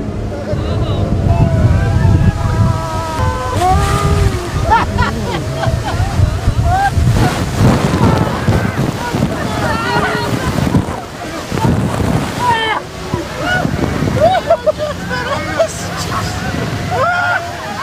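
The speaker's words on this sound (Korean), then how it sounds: "배는 다시 한번 설마 했던 그 폭포를 향해 달립니다." A tour boat speeds toward the Iguazu waterfall, its engine roar blended with heavy wind buffeting and rushing water, loud and close, while passengers shout and talk excitedly over it.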